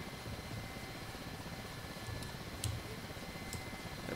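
Simulated Mi-8 helicopter in DCS starting to turn on the ground after brake release, a continuous rotor and turbine drone with a few faint clicks and ticks over it, no talk.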